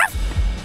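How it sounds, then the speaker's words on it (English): A dog barking, one short loud bark followed by another close behind, heard up close with no talk over it. "So much barking."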